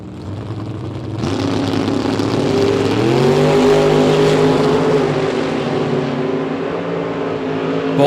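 A Corvette Roadster and a 1986 Mustang launch at a drag race, the engines climbing in rising, harmonic-rich revs after a sudden loud start and holding a strong roar as they pull away.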